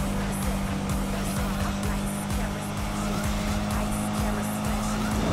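A car driven in the 2015 Need for Speed reboot, a steady loud engine drone with tire squeal and skidding throughout, a voice speaking faintly underneath.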